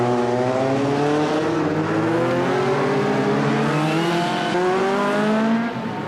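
A Mallock Mk 32 sports racing car roars past at a National Supersports 200 Championship race in 1997, a loud, sustained engine note whose pitch slides down steadily as it goes by, with no voices.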